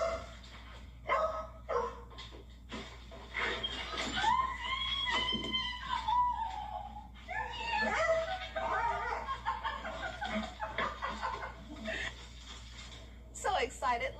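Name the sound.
excited dog Sadie greeting astronaut owner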